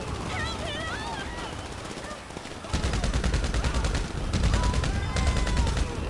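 Gunfire in GTA Online, with rapid automatic bursts and sustained machine-gun fire, loud and continuous over game sound, while a voice speaks during the shooting.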